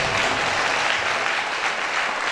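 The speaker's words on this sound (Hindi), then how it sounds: "कोई तो ताली बजा प्रभु यीशु मसीह की जय।" A church congregation at a Sunday healing and deliverance service claps in a steady, sustained burst of applause, close and even throughout, with no voices rising above it.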